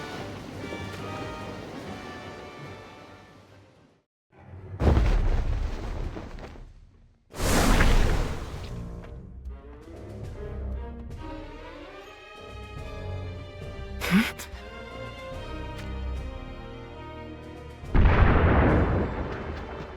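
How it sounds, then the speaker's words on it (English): Cannon fire from Rundal cannons in a lake battle in the game War of the Visions: Final Fantasy Brave Exvius, several loud booming blasts with whooshing tails spaced apart, set against dramatic music. "Those are the sounds of Rundal cannons."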